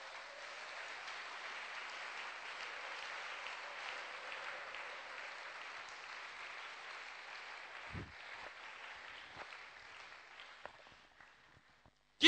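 A church congregation claps together in a steady, sustained round of applause at a moderate distance, tapering off with scattered final claps after several seconds.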